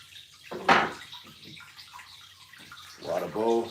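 Tap water pours into a pet's water bowl in a reptile enclosure, a brief splashing gush near the start and another louder burst of running water at the end, with quieter handling noises between.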